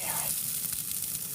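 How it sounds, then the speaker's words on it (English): Fish and seafood sizzling on a grill, a steady hissing crackle that holds for the whole moment without voices over it. "Can you hear the sizzle?"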